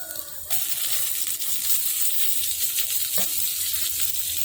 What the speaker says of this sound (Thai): พอหอมแล้วก็เอาหมูสับลงไปผัดก่อนนะครับ